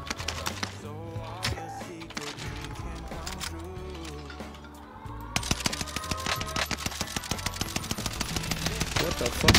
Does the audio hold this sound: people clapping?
no